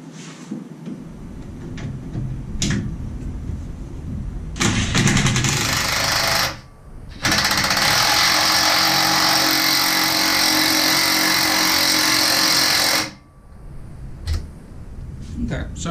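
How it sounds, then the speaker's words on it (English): An impact ratchet drives home bolts on a Jeep TJ brake line, sounding as a long, loud, steady whirring burst close by, with shorter bursts and some clattering around it. "So I'm going to use the impact ratchet just to drive it home."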